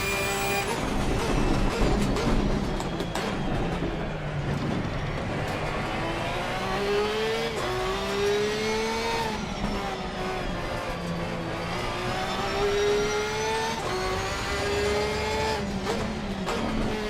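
In a racing video game, a Nissan GTR or Porsche race car's engine drones and rises through repeated revving gear changes, with tire noise beneath it, continuous and loud, with no talking.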